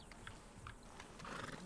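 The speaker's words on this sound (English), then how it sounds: "you couldn't help me get my other horse back from over there" Horse in Red Dead Redemption 2, with soft hoof clops, snorting and brief whinny-like sounds over quiet ambient game background.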